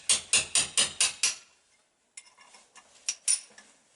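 Sharp metallic hammer blows strike a chisel on a Yamaha XS650 motorcycle crank during a rebuild: six quick evenly spaced hits, a pause, then several lighter, irregular taps.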